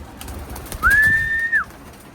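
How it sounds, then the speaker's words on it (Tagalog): A racing pigeon gives a single drawn-out coo, close and clear, over soft background rustling and faint knocks. "ganda mga ibon."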